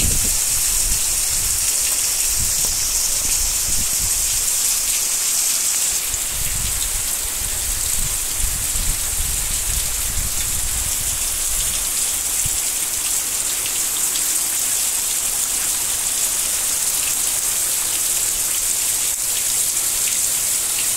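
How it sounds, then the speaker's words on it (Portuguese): Steady, heavy wind-driven rain pours continuously on a rural smallholding, a dense hiss of drops with low rumbling gusts, loud and close throughout. "E aqui como tá dando a chuva de vento"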